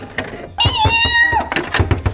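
A single drawn-out cat meow, close and clear, followed by quieter thumps and rustling movement.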